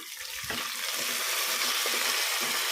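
Gongura (sorrel) leaves frying in hot oil for a mutton gongura curry give a steady, broadband sizzle with a faint stir or clink near the start, running continuously without talk.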